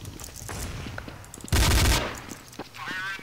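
Counter-Strike: Source gunfire rips out as a dense, loud burst of rapid shots midway, with quieter game sounds and scattered shots before and after.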